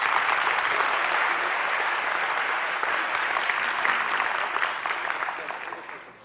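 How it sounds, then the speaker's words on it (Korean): A conference audience at a developer event bursts into loud, sustained applause to welcome two speakers on stage, a dense wash of clapping that holds steady and then tapers off near the end. "큰 박수와 함께 두 분 맞이해 주셨으면 감사하겠습니다."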